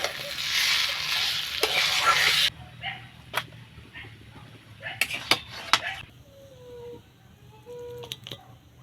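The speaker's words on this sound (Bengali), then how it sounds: "কচুর পাতাটা এরকম নেড়ে নেড়ে শুকনো করে নিতে হবে" Chopped taro leaves dry-frying in a pan: a loud sizzling hiss for the first couple of seconds, then quieter with scattered scraping and clicking stirs.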